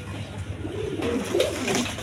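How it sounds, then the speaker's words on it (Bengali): Low, rolling pigeon coos sound a few times against a steady background murmur. "জোড়া জোড়া বাচ্চা করে, খুব"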